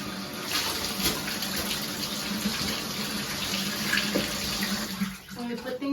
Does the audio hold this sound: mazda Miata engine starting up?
no